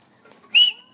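A person gives a single short, bright whistle, loud and close, standing out against near silence.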